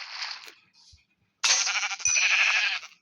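Sheep in the survival game Minecraft bleat twice: a short bleat, then after a pause a longer, louder, wavering call. No voices are heard.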